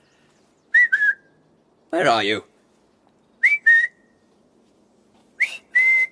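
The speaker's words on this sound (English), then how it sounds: "You whistled, my lord." A person whistles short two-note calls, three bursts spaced a few seconds apart, clear and close, with a brief spoken line between the first and second calls.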